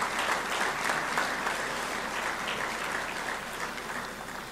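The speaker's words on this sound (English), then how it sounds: "give them a round of applause" Sustained applause from an audience at a college athletic hall of fame ceremony, steady dense clapping filling the whole stretch at fairly even loudness, easing off only slightly toward the end.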